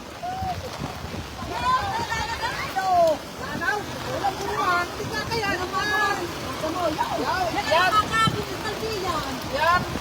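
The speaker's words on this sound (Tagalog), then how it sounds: "Lalo, ang lakas po ng agos ng tubig. Baha po yan" Strong floodwater current rushing down a street in Luzon after Typhoon Gaemi, a continuous loud roar of churning water under excited voices talking throughout.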